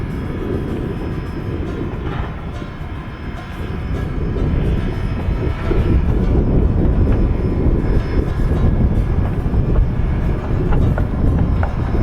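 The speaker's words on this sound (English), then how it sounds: "you hear the dynamo of the 493 going off nice and loud" A loud, steady mechanical hum and rumble from the dynamo of steam locomotive 493 on the Durango & Silverton railroad, close by, running continuously with no voices.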